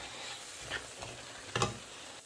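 Washed, cleaned snails added to a pan of salty sauce, a quiet continuous sizzle broken by a few soft stirring scrapes and clinks.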